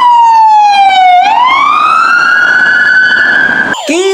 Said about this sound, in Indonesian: Mobil pahlawan ambulan.